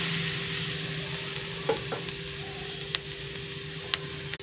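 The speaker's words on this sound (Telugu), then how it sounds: "వేసుకొని ఫ్రై చేసుకోవాలండి. కొంచెం పచ్చి స్మెల్ పోయేలాగా ఫ్రై చేసుకోవాలండి." Grated coconut fries in heated oil in a pan for laddu, a continuous close sizzle with a steady hum beneath and a few sharp clicks of a spoon against the pan.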